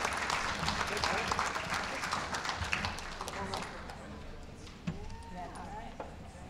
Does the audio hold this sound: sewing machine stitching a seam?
no